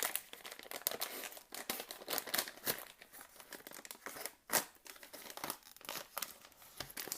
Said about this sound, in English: I'll go and cut the top of this thing open.